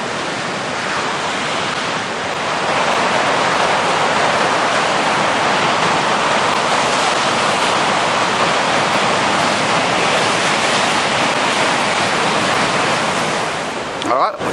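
Waves wash on a beach in New South Wales, a continuous loud roar of surf that swells after a couple of seconds and holds steady, dense and close, with no speech audible.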